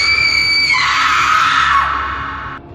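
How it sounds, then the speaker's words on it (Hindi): A woman lets out a long, loud, piercing scream as a horror story sound effect, holding the high note for about two seconds before it cuts off abruptly. "उसकी लाल जलती आंखें और लंबी हड्डियों से भरी उंगलियां देखकर अनिता चीख पड़ी।"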